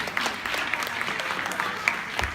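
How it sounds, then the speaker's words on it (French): An audience claps loudly for a music school band, with many hands producing a steady, lively applause that carries on without pause and with no one speaking over it. "on peut les applaudir encore bien fort"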